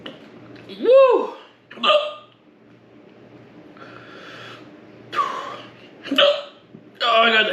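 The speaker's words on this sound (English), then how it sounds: "Oh no, I got the hiccups." Repeated hiccups from someone attempting the 2020 One Chip Challenge, loud and close, arriving in several sharp bursts with short gaps between them.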